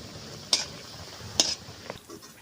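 Jackfruit fritters (kathaler bora) fry in hot oil with a soft, steady sizzle, broken by two sharp metallic clinks of a utensil against the pan.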